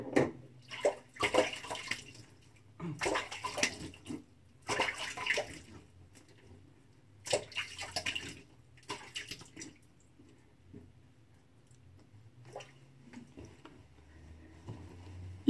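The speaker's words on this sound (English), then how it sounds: "I'll rinse off and get ready for pass number three." Water runs and splashes in bursts as a Muhle R41 safety razor is rinsed between shaving passes, a close hiss of tap flow broken by pauses and drips.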